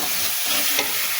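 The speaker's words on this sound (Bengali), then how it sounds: "টমেটো দিয়ে মশলাগুলো সুন্দর করে কষিয়ে নিলাম।" Spices with ginger, tomato and green chilli frying in a hot pan, with a loud, steady, close sizzle and a brief scrape of stirring partway through.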